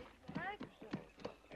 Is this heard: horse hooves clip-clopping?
yes